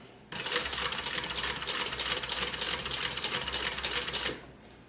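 A sewing machine stitching down the seam of an AllyBee bag, running in one fast, even burst of rapid needle clatter for about four seconds, close and loud, then stopping.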